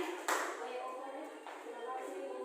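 A classroom group claps for a student, a sharp opening clap followed by a short burst of scattered hand claps, fairly close and faint, with a voice speaking over it.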